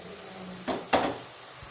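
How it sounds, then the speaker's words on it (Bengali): Two quick wooden-spoon knocks and scrapes in a pan as roughly chopped green chillies, ginger and garlic are mixed into frying onions for chicken keema, close and brief over a faint sizzle. "এই পেঁয়াজ ভাজাটার মধ্যে এগুলো আমি এখন মিক্স করে দিচ্ছি"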